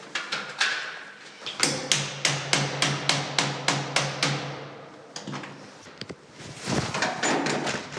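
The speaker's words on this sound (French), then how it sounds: "Et il casse ma serrure Ah ouais. à coups de tournevis et de clé à pince." A door lock being smashed open with a screwdriver and locking pliers: a rapid run of about a dozen sharp, loud metallic strikes in steady rhythm, followed by scraping, rattling handling noises up close.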